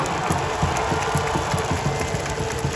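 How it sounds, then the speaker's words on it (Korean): Crowd cheering and applause fill a baseball stadium during a post-game player interview, a loud, continuous roar with a rhythmic low thumping pulse running beneath it. "여러분 뜨거운 응원의 박수를 한번 부탁드리겠습니다"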